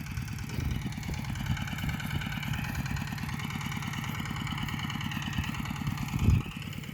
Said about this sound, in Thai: แล้วก็ใช้รถไถ ไถนาขึ้นล่องเพื่อกำจัดหญ้านะครับ